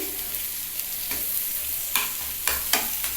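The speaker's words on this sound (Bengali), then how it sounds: "ওপর দিয়ে একটু আবার কাঁচা সর্ষের তেল দিয়ে তারপর একদম মচমচা করে ভেজে নিলে বেশ সুন্দর লাগবে" Mashed fish roe crisping in mustard oil over a low flame, a soft continuous sizzle broken by several scraping stirs against the pan, heard up close with no voices.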